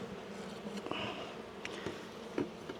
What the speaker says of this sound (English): these mountain bees, you get them stirred up